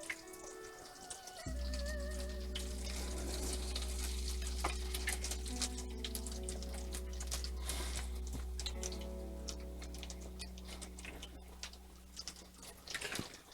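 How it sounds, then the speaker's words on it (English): Steady, dense sizzling of shrimp deep frying in hot oil, starting abruptly after a quiet moment and continuing loudly, with faint clinks and drips. "you're deep frying them"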